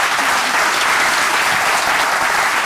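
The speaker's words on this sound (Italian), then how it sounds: "facciamo un applauso" Audience applause during an Italian cabaret show, a dense, steady wash of many hands clapping at full loudness throughout, with no talk over it.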